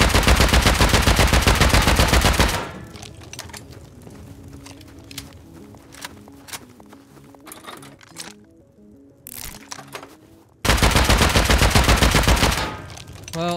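Rapid bursts of AK rifle fire in the Rust survival game, loud and dense at the start and again near the end, with quieter scattered shots, footsteps and movement in between.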